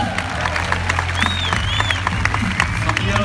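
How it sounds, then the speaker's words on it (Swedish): An indoor audience at a gymnastics show in Båstad breaks into applause, dense clapping with a few cheers, loud and close, continuing steadily with a brief whistle partway through. "Applåder!"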